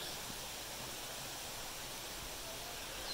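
Cascade Falls on the Blue Ridge Parkway in North Carolina pours as a constant broad rushing roar, soft and distant, steady throughout with no talk.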